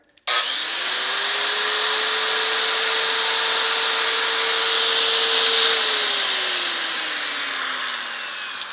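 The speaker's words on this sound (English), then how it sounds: "An angle grinder." An angle grinder powered by an Ecoflow Delta power station starts with a sharp whir and spins up to a steady high-pitched whine. It holds for several seconds, then winds down gradually as the motor coasts to a stop.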